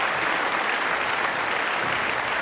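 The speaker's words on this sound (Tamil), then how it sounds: "அவருக்கு ஒரு அரங்கு நிறைந்த பாராட்டு" Packed hall audience at a Tamil pattimandram debate show clapping, a dense, even burst of applause filling the room for a couple of seconds with no talk over it.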